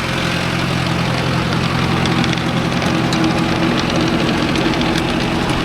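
A Mahindra Arjun Novo 605 DI tractor engine runs close and loud with a steady, heavy, knocking diesel drone throughout and no pauses.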